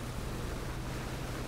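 Loud vehicle engine in the battle royale game PUBG, a steady dense roar with a low rumbling drone that holds constant and close throughout, with no talk over it.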